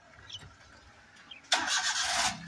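A car engine cranks and catches abruptly about halfway through, then holds a loud, steady roar as a pilgrimage drive begins, after a quieter stretch of faint background sounds.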